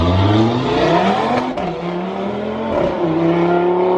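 A 2018 Audi RS3 with a decat downpipe and secondary silencer removed revs hard, its loud, raspy exhaust rising and falling through several swells, close by with no talking.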